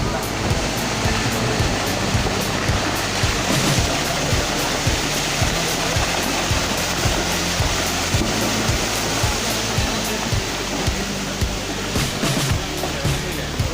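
Flash-flood water rushes down a hillside during a landslide in Kerala, a loud, continuous roaring torrent that fills the whole clip, close and steady with no pauses.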